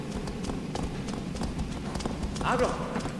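In Shadow of the Colossus, a horse's hooves clip-clop in a quick, steady galloping rhythm, close and clear, as a player's voice talks over it in the background.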